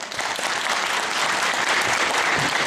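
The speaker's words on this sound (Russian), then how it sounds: "Аплодисменты." A festival crowd at a Cossack celebration claps steadily and loudly for a young hereditary Cossack girl singer from the village of Savino, a dense, continuous applause with no voices.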